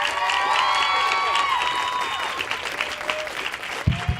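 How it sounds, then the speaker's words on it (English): Crowd in an Apple Store applauding and cheering as guests come out, loud sustained clapping with whoops that fades toward the end, followed by a few low thuds. "Big round of applause"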